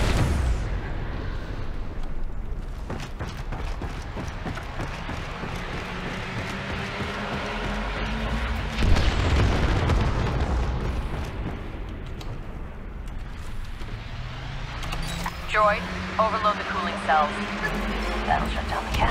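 Cannon fire and explosions pound a star destroyer in Star Wars: Battlefront II, a dense rumbling barrage with bursts of impact swelling midway, mixed with game effects and heard under a voice talking.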